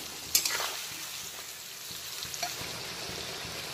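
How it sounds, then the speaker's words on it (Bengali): Chopped onions fry in a pan while a katla fish kalia is cooked. A steady, soft sizzle runs throughout, with a couple of brief stirring clacks near the start. No one speaks. "পেঁয়াজ কুচিগুলো আমি একটু ভাজা ভাজা করে নিয়েছি"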